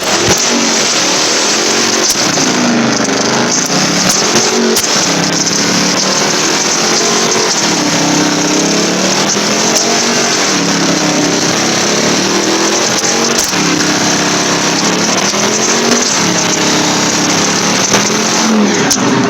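Car doing a one-wheel peel burnout while drifting, engine held high and loud, revving and wavering continuously, close and dominant with no talk.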